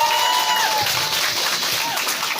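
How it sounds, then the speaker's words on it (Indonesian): Audience applause at a school ceremony and exhibition at SMK Negeri 1 Mempawah Hilir, a crowd clapping steadily with a murmur and some voices mixed in beneath. "Tepuk tangan dulu"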